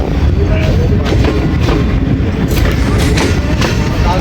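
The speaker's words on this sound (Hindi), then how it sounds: "12:05 पे गोला शरीफ जंक्शन पे अप्रोच बना रही है हमारी ट्रेन 14 डाउन अवाम एक्सप्रेस" Pakistani 14 Down Awam Express running toward a junction, a loud, dense, continuous rumble of wheels and carriages with recurring clatter over rail joints, heard close from on board without a break.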